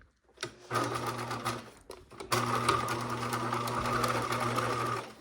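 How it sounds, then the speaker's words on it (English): A sewing machine topstitches a fabric pocket onto a caddy bag, its steady whirring motor running close and clear in two runs separated by a brief pause. "I'm top stitching it"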